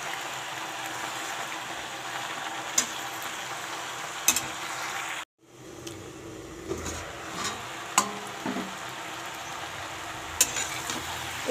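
Lai pata leaf greens fry in a pan with a steady soft sizzle, broken by a few light scrapes and clinks of stirring, then briefly muffled as the pan is covered.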